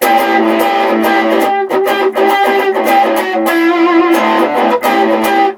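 A distorted electric guitar plays a sustained run of notes, loud and continuous with brief picking attacks, no voices.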